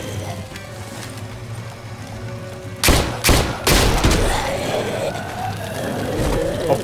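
Gunfire in The Walking Dead: Season Three game, a few sharp loud shots in quick succession breaking a low ambient hum, followed by lingering rumble and noise.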